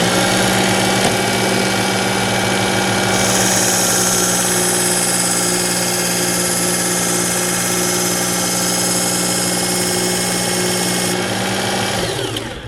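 Work Sharp belt sharpener grinding a kitchen knife on a 120 grit belt, a loud steady motor whine with a brighter abrasive hiss of metal on the belt through the middle stretch, no talk.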